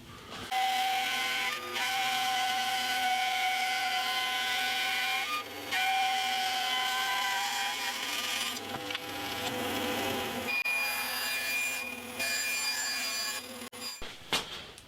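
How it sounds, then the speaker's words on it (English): Thin wood strips for a guitar neck and kerfing run through a thicknesser, its motor whining loudly and steadily with brief dips between passes. "just run them through the thicknesser to get them down probably to about 3mm"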